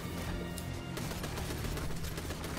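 Rapid gunfire and explosions from the video game Destiny 2 fill the scene, a dense, continuous barrage of shots and bursts that stays loud and close without pause.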